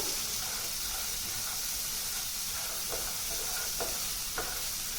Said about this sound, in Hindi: तो मूंगफली को अच्छी तरह से भूनेंगे हम